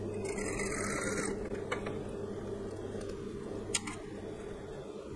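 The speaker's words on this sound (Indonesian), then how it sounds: "Okey, jahit sampai habis." A sewing machine stitches a seam on palazzo trousers, a steady mechanical whir running under faint background hum, louder for the first second or so and then softer, with a few small clicks and one brief sharp tick.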